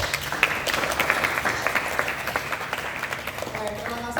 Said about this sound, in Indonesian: sekarang kita beri aplaus dulu